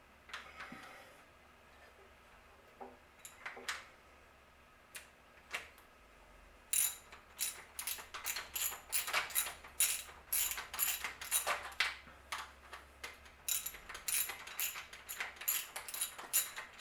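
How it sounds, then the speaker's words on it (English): A ratchet wrench tightens the bolts on a rebuilt carburetor, starting with a few scattered clicks and building into fast, steady ratcheting strokes close by. "And you just wrench it on."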